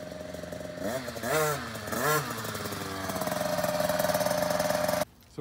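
A 2018 KTM 50sx kids' dirt bike on a muddy track revs in two quick rising blips, then settles into a loud steady high buzz before cutting off abruptly, close by.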